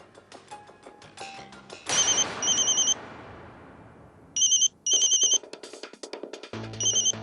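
A phone ringtone plays in repeated bursts of electronic chiming tones, loud and close, broken by short gaps, over a faint indoor background in a Hindi TV drama scene.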